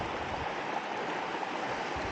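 A small mountain creek flows near a campground at Echo Lake below Mount Blue Sky, a steady broadband rushing and babbling heard close and unbroken, with no voices.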